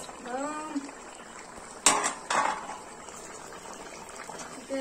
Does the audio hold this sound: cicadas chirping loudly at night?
no